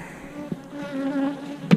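Honey bees buzz steadily inside sealed hive boxes with screen bottoms, loaded on a truck, a dense continuous hum close by with a couple of brief knocks.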